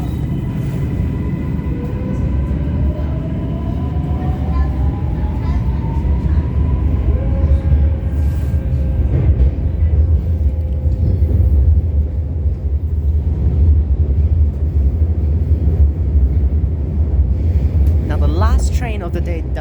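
Shenzhen Metro Line 4 train running between Niuhu and Qinghu, a steady loud low rumble throughout with rising and falling motor whine tones, with announcement voices and talk over it.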